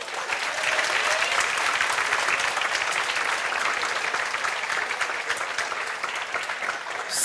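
An audience in a classroom or hall claps steadily in dense, continuous applause, loud and sustained throughout.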